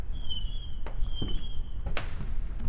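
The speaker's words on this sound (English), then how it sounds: "we are going to town with the fireworks right now" Fireworks go off outdoors near a front porch: a few whistling rockets and sharp pops, fairly close. A low background rumble runs underneath.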